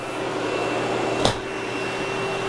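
A corded vacuum cleaner with variable speed control runs steadily on a smooth floor, giving a constant close whir with one brief knock midway and no talking.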